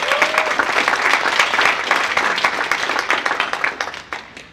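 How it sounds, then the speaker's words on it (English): A crowd at a community cooperative event gives a round of applause, loud, dense clapping from many hands that fades away over about four and a half seconds. "So give them a round of applause."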